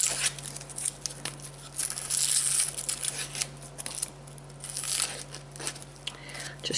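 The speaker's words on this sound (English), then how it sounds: "Just get that outer little skin of the onion off there." Papery outer skin being peeled from an onion by hand in a kitchen, with close, irregular crinkling and tearing bursts over about seven seconds above a steady low hum.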